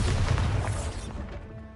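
A Bombarda spell blast in Hogwarts Legacy, a heavy, booming explosion with a deep low-end rumble that fades away over under two seconds.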